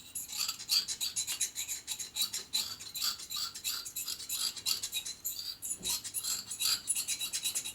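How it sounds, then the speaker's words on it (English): A scraper scrapes heavy carbon deposits from the cylinder bore of a 1977 1000cc Harley-Davidson Sportster Ironhead engine, making quick, rhythmic, gritty scratching strokes that are close and fairly quiet, with no talking. "We're just scraping the carbon out in here of the bore."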